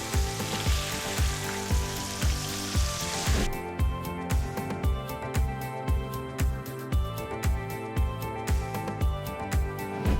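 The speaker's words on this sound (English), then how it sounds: "This should be ready, good to go to stir fry it." Chilean sea bass stir-frying in a hot pan, a loud sizzle broken by regular scraping strokes of the spatula that keep a steady rhythm, close up and with no talk.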